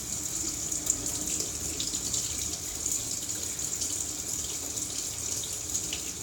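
Warm tap water runs steadily over a vinyl record during a rinse, a soft continuous splashing hiss with faint fluctuations, close and fairly quiet, with no voices.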